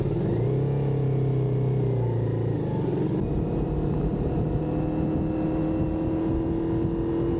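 A CFMOTO 450SS sport motorcycle engine drones steadily while being ridden, with a rising rev that shifts to a lower steady pitch and wind noise throughout, close and without talk.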